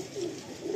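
An Andhra pigeon in a loft gives a single short, soft coo, close by and alone.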